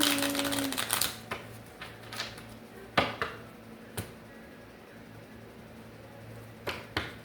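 Sharp clicks and snaps of cards being shuffled, irregular bursts at first, then sparser taps against a quiet background.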